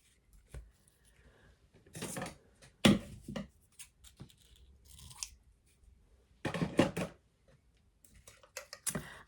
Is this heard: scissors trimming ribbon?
yes